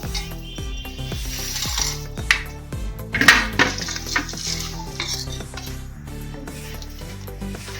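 A spoon stirs and scrapes a coconut sweet through bubbling sugar syrup in a pot, giving close, irregular clinks and scrapes over a soft sizzle, with no voices.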